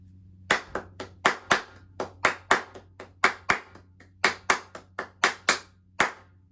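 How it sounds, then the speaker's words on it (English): A class of students clapping a syncopated rhythm together in unison, sharp crisp claps in an uneven pattern with short gaps and accented beats, fairly close and alone without talk. "So on number 5, can we all clap that together?"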